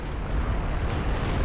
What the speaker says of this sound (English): And Stuka barrage.